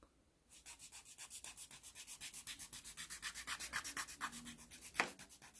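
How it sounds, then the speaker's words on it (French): Nail file lightly filing a fingernail during a manicure, a quick, even rhythm of rasping strokes, close and steady, about six per second, with no talk. "Si nécessaire, on repasse un léger coup de lime."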